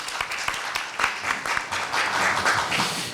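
An audience at a Korea University speaking contest applauds after a student's presentation, with many hands clapping in a brisk, dense rhythm that swells slightly toward the end at close range.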